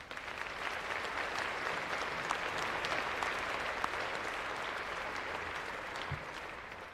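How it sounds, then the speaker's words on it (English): Sustained audience applause at a 2023 high school graduation ceremony honoring educators, an even wash of many hands clapping for several seconds at moderate distance, easing slightly at the end. "Please join me in giving these valued educators a round of applause."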